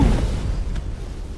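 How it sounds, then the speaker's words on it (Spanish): An explosion in the video game Defiance gives a loud, low, rumbling boom that fades over about a second. "Explosión acá."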